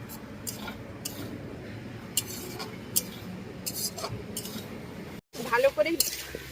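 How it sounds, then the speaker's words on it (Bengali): Pointed gourd (potol) that was fried earlier gets stirred in a pan with spice paste, giving scraping and clinking utensil sounds at a steady rhythm, close and moderately loud, broken by a brief pause near the end. "এবার ভালো করে সব একসঙ্গে নেড়ে নেবো"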